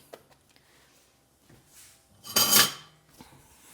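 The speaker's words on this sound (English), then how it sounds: "I like to scrape my spoon so that I get every little bit in here" A spoon scraping around a bowl of chocolate granola mix: a few faint clicks and taps, then one louder, longer gritty scrape, close and alone.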